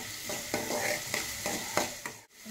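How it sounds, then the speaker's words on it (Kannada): Onions frying in a pan hiss steadily while a utensil scrapes and stirs in regular strokes, about one every half second, then a brief drop near the end; no one speaks. "ಈರುಳ್ಳಿ ಹಸಿ ವಾಸನೆ ಹೋಗಿ ಫ್ರೈ ಆಗೋದು."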